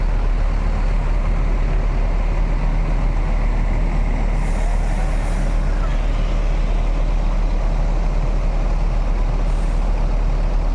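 A Mutiara Hitam coach pulls into a crowded, busy bus terminal, its heavy diesel engine rumbling loud and steady, with the hiss of air brakes releasing twice and low voices murmuring in the background.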